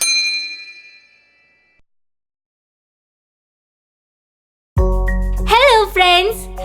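A bright notification bell ding rings once and fades over about a second, then silence, followed by a voice speaking.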